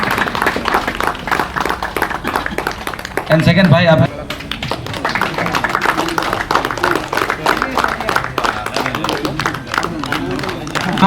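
Audience at a Wancho tribal festival in Longding clapping in quick, scattered rhythmic claps that run through the whole stretch, with someone speaking over them and a brief burst of louder noise partway through.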